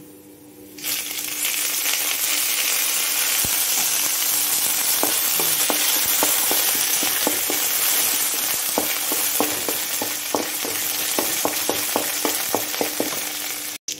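Mustard seeds spluttering in hot coconut oil, a steady loud sizzle with many sharp pops crackling in irregular bursts throughout, no talking.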